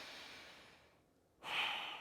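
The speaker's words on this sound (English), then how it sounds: "Big breath in and out." A person standing with eyes closed draws a deep breath in, then after a short pause breathes out audibly, a soft close airy rush.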